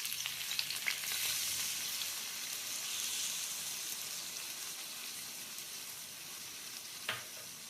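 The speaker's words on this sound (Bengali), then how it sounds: "দেখুন কচু আলু ভালোভাবে ভাজা হয়ে গেছে। আবার একটু নেড়ে চেড়ে নেওয়া হচ্ছে।" Taro and potatoes fry in a wok with a steady close sizzle as they are stirred, with a few scrapes and one sharp clack near the end and no talking.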